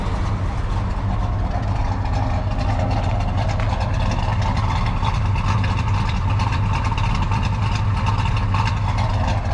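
A 1973 Plymouth Road Runner V8 idling outdoors, heard from behind at its twin large-diameter exhaust pipes, a steady loud low rumble throughout.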